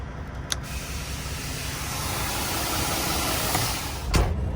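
Air suspension airbags on an over-the-road truck deflate in a long, steady hiss over a low engine idle, with a couple of short sharp clicks.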